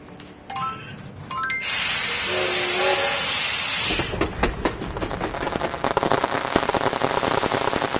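Cartoon steam train from a children's video game about repairing a railway and station, with a rising chime jingle, a long loud steam hiss, then chugging, clattering rail noise running steadily to the end.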